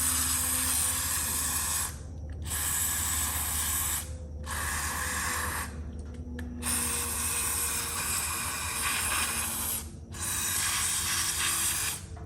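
WD-40 dry lube sprayed on a 1940s Knapp Monarch Koldair fan: several long steady hissing bursts, close and loud, separated by brief pauses.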